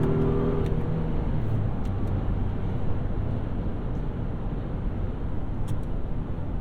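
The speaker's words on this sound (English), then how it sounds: "Isn't it cool having a motor you can rev out?" A 2023 Honda Pilot Trailsport engine revs hard toward about 6,500 rpm while driving, heard from inside the cabin as a loud, continuous rumbling drone that barely changes throughout, with no talk.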